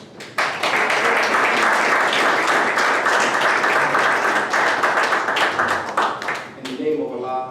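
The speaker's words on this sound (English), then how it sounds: "a warm round of applause" A warm round of audience applause at a religious gathering, dense and sustained clapping that holds steady for several seconds before thinning out near the end.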